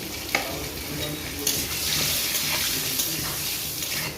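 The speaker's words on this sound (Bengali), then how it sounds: "সর্ষার তেল আলুগুলো তেলের উপরে দিয়ে ভেজে নেব" Potato pieces fry in mustard oil for a duck curry, a steady bright sizzle with a few soft clacks of stirring as the pieces are turned in the pan.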